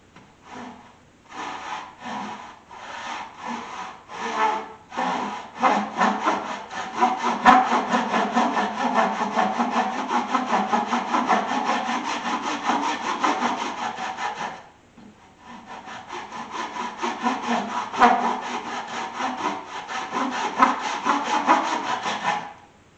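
A hand saw cuts through wood beside a marking-knife line, steady back-and-forth rasping strokes close up, pausing briefly midway before the sawing resumes.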